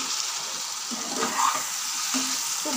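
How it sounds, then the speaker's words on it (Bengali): Mustard-poppy and chili paste stirred into frying taro stems in a village kitchen, a steady hissing sizzle with soft stirring scrapes, close and even. "এবার সর্ষে পোস্ত আর লঙ্কা বাটাটাকে আমি খুব ভালোভাবে এর মধ্যে মিশিয়ে দেব।"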